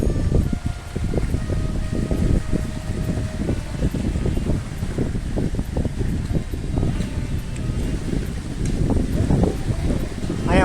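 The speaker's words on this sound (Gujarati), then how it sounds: "અત્યારે પણ કેવો મસ્ત પવન આવે" Steady wind blowing outdoors, rushing and buffeting against the microphone with a constant low rumble throughout, close and fairly loud.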